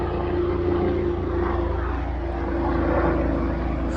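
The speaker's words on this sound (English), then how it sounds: "a rescue helicopter." A rescue helicopter passes overhead, a steady low droning engine rumble with a constant hum that stays even and moderately loud throughout, with no voices.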